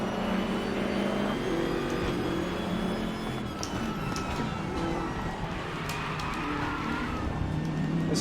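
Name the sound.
race car engine in the RaceRoom video game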